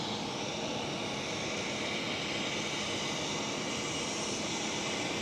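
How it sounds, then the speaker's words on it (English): A Qatar Airways Boeing 777 taxiing at Amsterdam Schiphol airport, a continuous broad jet-engine roar and whine holding steady and fairly loud throughout. "The Qatar 777 is going towards the stand and not joining us for a takeoff"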